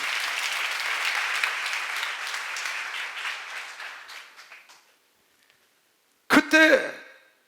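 Congregation applause at a church seminar, a dense wash of clapping that holds steady for about four seconds, then thins and fades to silence, followed by a brief loud burst of voice.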